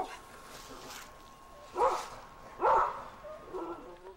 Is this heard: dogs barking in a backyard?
yes